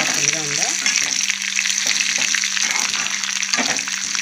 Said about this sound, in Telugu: అలాగే ఎండుమిరపకాయలు, కరివేపాకు కూడా వేసేసుకుంటాం